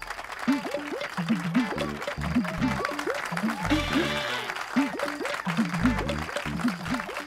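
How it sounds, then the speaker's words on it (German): Applause and crowd noise at a TV show's welcome of a superstar carry on beneath a rhythmic melodic voice or music with repeated tonal phrases, lively and continuous throughout. "Heißen wir den Superstar Jatta Singh mit einem großen Applaus willkommen"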